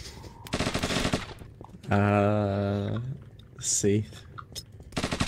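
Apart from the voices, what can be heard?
MP5 gunfire in a video game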